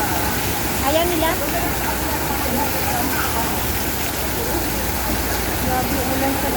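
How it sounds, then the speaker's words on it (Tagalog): Heavy rain falling outdoors in Hong Kong, a dense unbroken hiss that stays loud and steady throughout, with faint voices mixed in beneath the downpour. "Grabe ulan sa labas."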